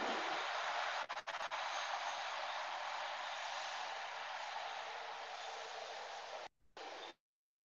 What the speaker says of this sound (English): I guess the subway is arriving already.